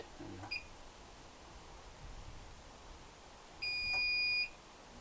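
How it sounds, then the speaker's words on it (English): A short electronic microwave beep sounds once near the end, clear above a quiet room hum, with a faint brief chirp earlier. "Microwave beeped."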